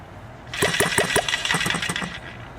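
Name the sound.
HM-01 kit small engine running with choke set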